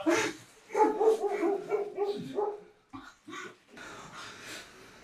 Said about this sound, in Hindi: कुत्तों के भौंकने की आवाज, तेज हवाओं का शोर